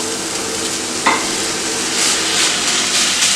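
Mackerel with grated coconut and shallots being stirred in a hot pan, a steady sizzle under scraping stirs, with one sharp clack of the utensil and brighter scraping strokes toward the end.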